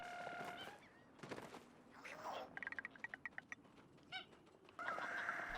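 Birds in the video game Knight and Bikes, a quick run of chirps and cooing calls with a few flutters, soft and close, against quiet ambience.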